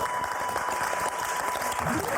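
A TV game show studio audience breaks into sustained applause, a dense steady clatter of many hands clapping throughout, with a faint tone running underneath.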